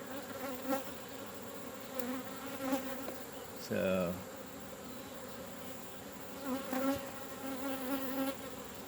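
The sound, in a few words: honeybees buzzing around open hive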